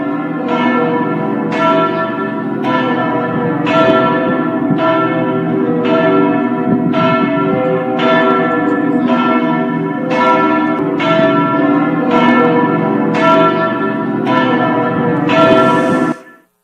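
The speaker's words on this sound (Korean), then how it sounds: "엄청난 종소리가 울려가 퍼지게 되는 것이죠." Large church bells in Worms, Germany ring loudly and steadily, with regular strikes roughly every second over a dense, sustained wash of overlapping tones, no voices present.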